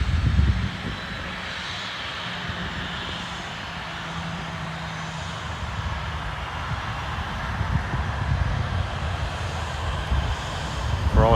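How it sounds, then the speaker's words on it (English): A Southwest Airlines jet descends toward Hobby Airport in Houston, its engines a steady broad roar at a distance that swells slightly near the end, with no voices. "That's one of their planes coming down."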